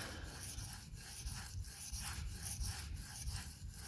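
A Spyderco Parata knife blade is sharpened with quick, rhythmic rubbing strokes of steel against an abrasive, soft and close, with no voices.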